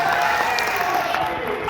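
A short burst of audience clapping follows Punjab Chief Minister Bhagwant Mann's speech in Nagpur. Crowd applause is steady and fairly close for under two seconds.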